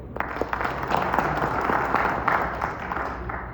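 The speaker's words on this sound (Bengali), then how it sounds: "এজন্য এখানে প্রত্যেকটা ব্যক্তির জন্য আমরা একটা করে করতালি দিই।" A small group claps together in a brief round of applause, steady and fairly close, with no voices over it.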